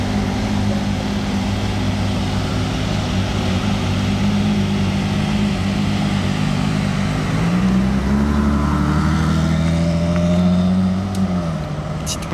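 A white Ferrari passes on a Monaco street, its engine a steady drone that swells into a rising, revving pass near the end, loud and continuous against city background with no talk.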